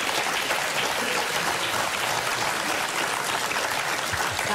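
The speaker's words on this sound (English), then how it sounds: "Guys, why are you applauding Mark's loss?" A television talk show studio audience applauds, a dense, even wash of many hands clapping at moderate volume throughout, with no talk over it.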